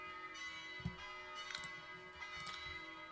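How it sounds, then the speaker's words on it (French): Church bells ring faintly in the background with a few soft, spaced strikes over a low steady hum. "Désolé pour les cloches derrière"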